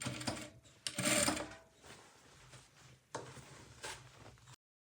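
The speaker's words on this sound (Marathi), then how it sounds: "आता या साईडने पण टीप मारून घ्यायची" A sewing machine runs in short bursts while stitching a katori blouse, its fast needle chatter rising loud for a second, easing, then returning in a couple of quicker runs before stopping; no voices.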